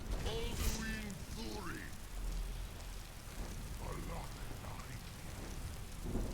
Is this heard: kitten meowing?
no